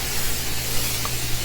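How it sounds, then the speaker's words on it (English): A pressure washer sprays water to rinse dirt off a fence, giving a steady, close hissing spray with a low hum beneath it, continuous and without pauses. "I decided to rinse everything off that I've gotten dirty, the fence and stuff"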